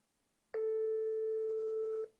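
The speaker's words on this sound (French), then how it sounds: "je vais t'appeler tout directement. FaceTime." A FaceTime video call rings out as one sustained electronic tone, starting abruptly and holding steady for about a second and a half before cutting off, with no talk over it.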